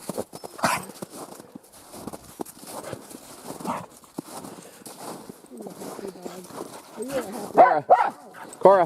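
Dogs bark and yip in short bursts near Challis, Idaho, with some whimpering and scuffling, growing louder and busier toward the end.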